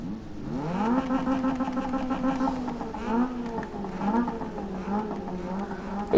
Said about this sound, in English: This car just likes to spit.